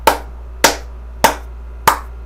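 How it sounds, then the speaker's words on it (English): Four single sharp hand claps, evenly spaced about half a second apart, crisp and close against a quiet background with a low steady hum. "You know there was some clapping"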